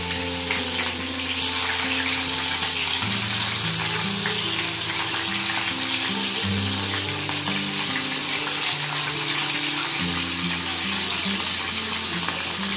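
Mustard seeds, cumin and green chili fry in hot oil, giving a loud, continuous hiss and sizzle close by, with low tones running underneath throughout.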